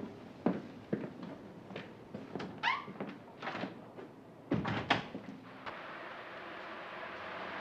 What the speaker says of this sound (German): Licht aus, Tür zu.